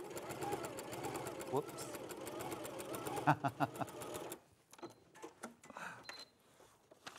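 A sewing machine stitches a quilt seam in rapid, even bursts of mechanical chatter that stop partway through, followed by quieter handling noises while someone talks briefly.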